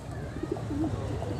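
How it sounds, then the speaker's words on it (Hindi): A grey female pigeon gives a soft, brief coo, faint and close, over a low steady background hum with no talking. "बहुत प्यारी कबूतरी है"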